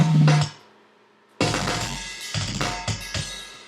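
A metal drum kit, programmed in Logic Pro and sent out through multiple outputs, plays back in dense bursts. A short hit opens, then a pause, then loud pounding kick and cymbal-heavy passages with sharp accents.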